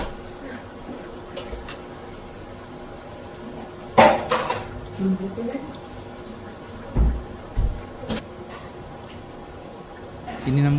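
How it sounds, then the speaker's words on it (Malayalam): Mackerel pieces go into a pot of boiling chilli fish curry with a few distinct clattering knocks against the metal, separated by quiet stretches over a low kitchen background. "നമുക്ക് ഇതിലോട്ട് മീൻ ചേർത്ത് കൊടുക്കാം."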